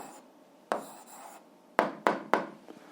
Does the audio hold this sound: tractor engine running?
no